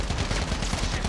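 A DMR rifle fires in Call of Duty during the Verdansk 1984 mode, heard as a loud, close, rapid string of sharp shots in quick succession with no talking.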